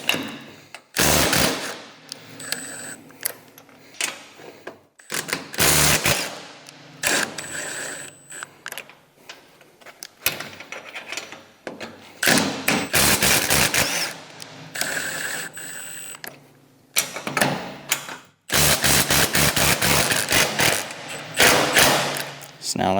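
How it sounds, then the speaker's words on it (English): A 9/16 socket wrench ratchets loose the bolts along the top rubber cutting edge of a MUSKOX 26-84 snowblower, in repeated bursts of quick clicking separated by short pauses, close and fairly loud. "Now I'll take my 9/16 socket and wrench and go do all the bolts in between."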